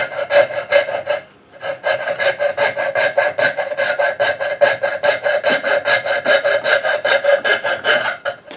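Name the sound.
filing wood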